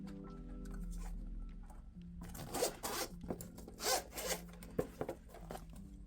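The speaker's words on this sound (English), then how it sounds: "So it's just a complete zip around" A zipper running all the way around a kawaii Nintendo Switch accessory case opens in a series of close, scratchy rasping pulls, coming after a few quieter handling rubs.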